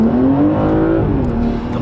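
A BMW 2 Series, untuned, pulls hard under acceleration with a steady rising engine tone, close and loud, with no voices.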